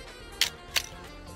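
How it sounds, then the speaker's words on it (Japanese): A Canon FT film camera fires its horizontal-travel cloth focal-plane shutter twice, two crisp close mechanical clacks about a third of a second apart, alone over faint room noise. "結構ね、シャッターの音がいい音します。"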